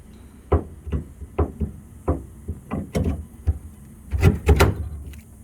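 A removable grab bar, bolted through with 3/8 stainless bolts, is fitted back into a jon boat, making a string of close, sharp knocks and clunks, irregular and spaced, thickening into a quick cluster near the end.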